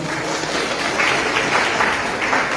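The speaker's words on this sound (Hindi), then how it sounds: "तो आपके लिए भी बहुत बहुत अभिनंदन जोरदार तालियों के साथ।" Dense, steady applause from an audience at a spiritual gathering in Sydney, Australia, filling the whole stretch at an even, fairly loud level with no talk over it.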